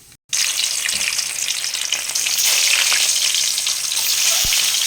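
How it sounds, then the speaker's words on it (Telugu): Eggs dropped into hot oil in a pan with cumin and turmeric, bursting into a loud, close, crackling sizzle after a brief silence and holding steady throughout, with no talking. "ఇలా ఎగ్స్ వేసి ఆయిల్లో అలా ఒక సెకండ్ ఉండిచ్చేసి"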